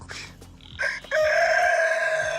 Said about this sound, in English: we got about 30 plus chickens.